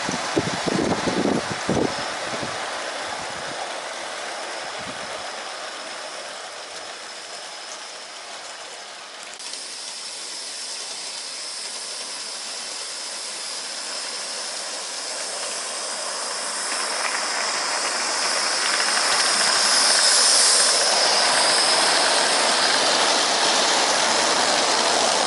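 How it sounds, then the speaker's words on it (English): A miniature steam train runs along track with a continuous hissing, chuffing rush, rough mechanical rattles at the start, swelling louder toward the end, with no talking. "the train's not running very well, but it is running"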